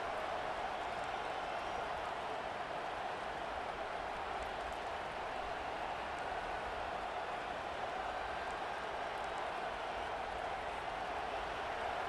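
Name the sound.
stadium crowd cheering, from a video game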